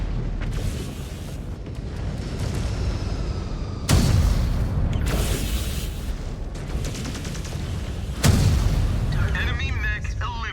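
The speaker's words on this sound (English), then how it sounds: "Incoming missile." Missile explosions in MechWarrior 5: Clans land as heavy, booming blasts, two of them standing out loud and close, over a constant rumble of battle noise and game voices.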